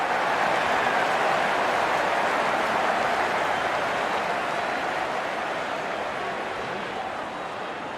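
A large crowd at an IPL cricket match between Sunrisers Hyderabad and Mumbai Indians applauds and roars for a boundary, a dense, continuous wash of clapping that slowly fades.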